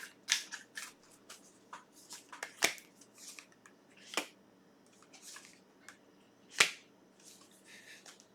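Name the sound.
tarot cards being shuffled and drawn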